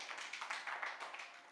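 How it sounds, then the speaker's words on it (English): Applause from a conference audience for a speaker at an interfaith climate and environment gathering, a brief, fairly quiet burst of scattered hand claps lasting just over a second. "Round of applause to Mr. Hillary."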